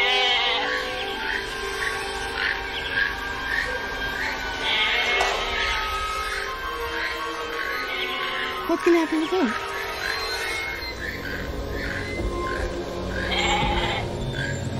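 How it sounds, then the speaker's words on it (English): A goat bleats and cries repeatedly in the Jurassic Park film, shaky calls rising over a dense, steady ambient score, while people talk briefly in the background. "He's gonna eat the goat?"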